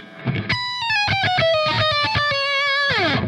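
Distorted electric guitar plays a quick chromatic run of rapid notes, ending with a sliding bend downward, loud and alone.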